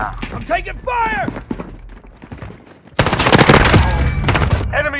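A voice talks over quiet game ambience in Call of Duty Modern Warfare, then heavy automatic gunfire erupts close by, a loud continuous rattle of shots that fills the rest of the moment.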